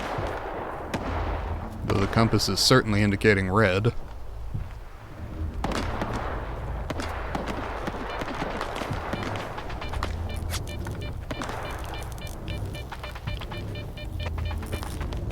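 Bursts of gunfire and explosive blasts in the video game STALKER 2: Heart of Chornobyl, sharp shots over a rumbling combat soundscape while someone talks over the action.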